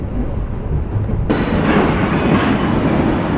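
The Ruposhi Bangla Express rolls into Jessore Junction, with loud wheel rumble and rail clatter; a sudden rise in brighter squealing noise partway through as the train brakes.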